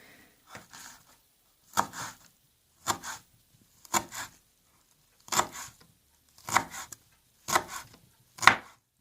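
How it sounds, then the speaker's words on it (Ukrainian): Garlic chopped with a knife into tiny cubes for a spring dandelion salad: about eight crisp, separate chops spaced roughly a second apart, close and clear with no talk. "нарізаємо чесничок"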